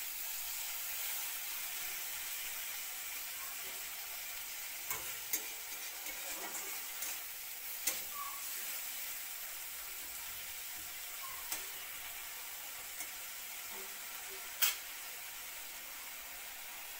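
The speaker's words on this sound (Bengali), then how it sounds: "একটু ভালো করে ভাজা হইব।" Tomato and onion paste fries quietly in a pan for a mustard egg curry, a low steady sizzle dotted with sparse clicks and taps from stirring.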